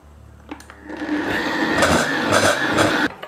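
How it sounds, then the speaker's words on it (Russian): A blender whirs as it purées a sauce for shrimp pasta, a steady loud motor drone kicking in after a brief start and running continuously for several seconds with no talking over it. "Положим в блендер."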